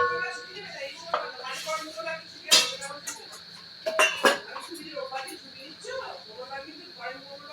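Green paste for chicken hariyali kabab is stirred and mixed in a bowl, with soft scraping and a few sharp clinks of a spoon against the dish. Someone talks over it.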